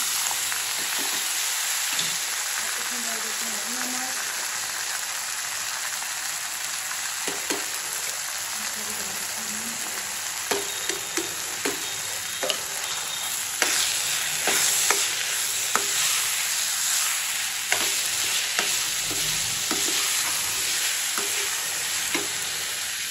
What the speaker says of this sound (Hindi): अभी हम डाल देते हैं साबूदाने